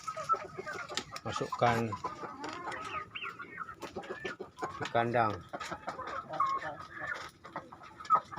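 Chickens and roosters in a coop with rooster holding boxes cluck and squawk throughout, with two louder, drawn-out rooster calls standing out over someone talking nearby.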